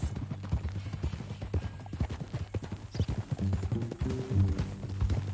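Horse hooves clip-clop steadily on the ground in Red Dead Redemption 2, an even walking rhythm throughout with a brief low whinny-like sound near the end, under a game soundtrack hum.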